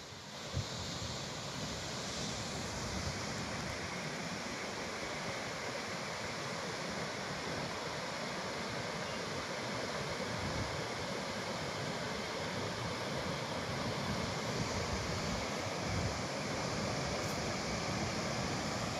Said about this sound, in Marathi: सगळ्या दरवाज्यातून पाण्याचा विसर्ग होत आहे.